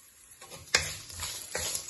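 Turmeric powder and asafoetida go into a hot pan after the flame is turned off for lemon rice. A soft, quiet sizzle follows, with a few sharp clinks from stirring.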